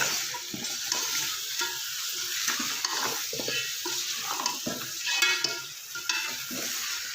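Two goat heads and trotters frying in oil with garlic-ginger paste for Peshawari siri paye, a dense close sizzle broken by irregular stirring scrapes and clanks, with no talking.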